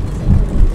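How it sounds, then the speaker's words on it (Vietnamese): Rain beginning with thunder, heard as a low, steady rumble that swells briefly midway through a short moment, with no voices. "Ui mưa rồi."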